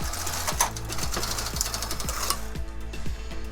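Knitting machine carriage pushed across a row of needles while knitting a chunky-yarn sock, a steady mechanical rattle with regular clicking pulses, close and continuous, with no talk.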